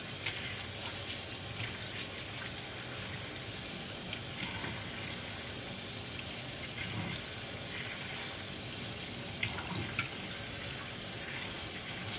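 Tap water running steadily while leaves are washed at a kitchen sink, a constant broadband rush with occasional clinks and splashes, no talking.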